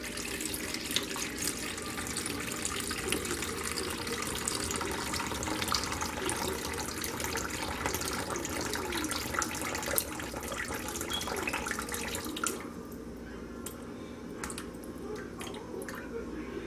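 Distilled water poured into a container for measuring during hot process soap making, a steady trickling stream that runs for several seconds, then thins to a few drips near the end.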